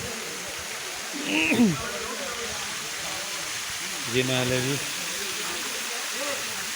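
Steady, broad rushing of the Bara Bakhara waterfall in Bargarh, Odisha, India, which drops 70-80 feet, fills the background, with a few short bursts of people talking over it.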